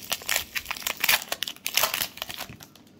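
A hockey card pack wrapper is torn and crinkled open in a steady run of sharp, close crackles and crunches over about three seconds, with no talking.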